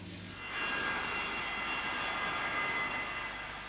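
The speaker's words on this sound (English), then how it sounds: "today, 50 years after it was first put into service, the DC-3 is working still, here carrying passengers between Boston and Cape Cod" A Douglas DC-3 airliner carrying passengers in flight between Boston and Cape Cod, its piston engines a steady, faint, distant drone that swells in after a moment and holds level.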